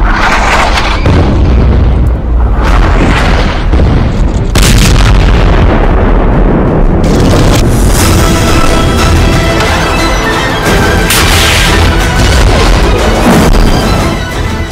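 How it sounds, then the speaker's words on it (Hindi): Anti-tank missile fire at the Israel–Lebanon border: very loud, distorted booms and a sustained roaring blast, with heavy rumbling explosions filling the whole stretch. "इजराइल लेबनान बॉर्डर पर दागी गई एंटी टैंक मिसाइल।"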